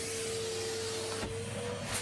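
A household vacuum cleaner runs over a mat with a steady, whining drone at moderate level, its tone shifting midway as the head moves across the surface.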